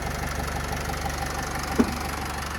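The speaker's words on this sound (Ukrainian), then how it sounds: "Я думаю, тут чути, як авто працює." A 2012 Renault Trafic van's 2.0 diesel engine idles with a steady, low, even mechanical chug and a single brief knock partway through; no one speaks.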